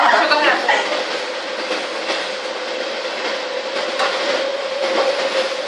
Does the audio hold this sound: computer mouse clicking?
no